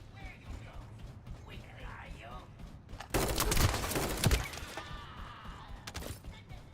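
Weapon swap in the shooter game The First Descendant: a loud metallic burst of mechanical clatter and gunfire-like crackle in the middle, followed by a sharp click later, over quieter game ambience.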